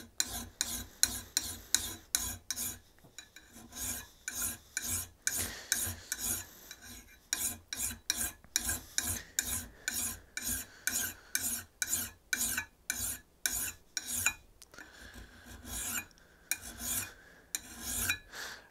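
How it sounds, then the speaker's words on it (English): A metal hand file rasps a bevel onto a blade edge in steady, repeated strokes, each a bright scraping burst with short pauses between, close and clear with no talking. "File's getting a little clogged, it's just cleaning off."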